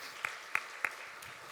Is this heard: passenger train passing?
no